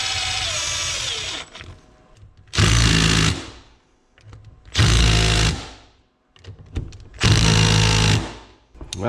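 A power tool drives Loctited bolts home in three loud, close bursts of about two seconds each. Each burst ramps up and then cuts off, with quieter clanks and handling noise between them.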